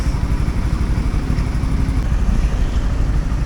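A Honda Winner X motorcycle is being ridden, giving a steady engine drone under heavy rushing wind noise across the whole stretch, loud and close, with no talking.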